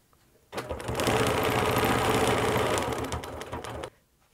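A sewing machine stitches a quilt guided by a quilting ruler, running in one steady, rapid burst of about three seconds, close and loud, between brief quiet moments.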